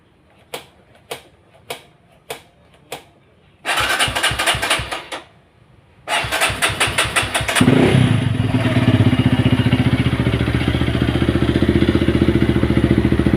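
A Kawasaki KLX 140 motorcycle, left unused for a long time, gives a handful of sharp, evenly spaced ticks, then two short cranking bursts before catching and settling into a steady, close, loud idle rumble.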